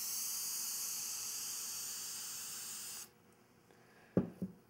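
A sustained broadband hiss of an aerosol lacquer can spraying through an adjustable fan nozzle runs steadily for about three seconds, then cuts off, followed by a couple of faint knocks.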